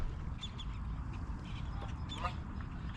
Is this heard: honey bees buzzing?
no